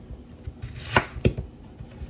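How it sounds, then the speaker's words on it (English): Knife cutting soaked sea moss into small pieces on a board, a few soft, irregular chopping thuds up close, two stronger strokes in the middle, with no talking. "So we're just gonna cut up these again"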